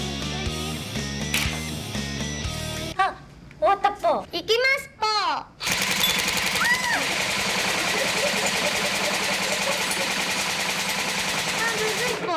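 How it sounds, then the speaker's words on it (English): Airsoft guns fired at a shooting bar in Tokyo: a stretch of noisy, rapid popping bursts follows a short burst of music and bright, sweeping voices, with people talking throughout. "Note that she is shooting with airsoft guns"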